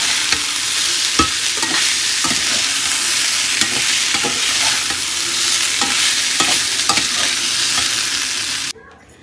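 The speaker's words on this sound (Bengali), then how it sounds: "এবার অল্প অল্প করে সাবু দিয়ে দেবো দিয়ে সবজির সঙ্গে সাবু মিশিয়ে নেব" Sago pearls are stirred into already-fried vegetables in a pan, with steady scraping strokes and a constant close sizzle for about eight seconds before the noise cuts off abruptly at the end.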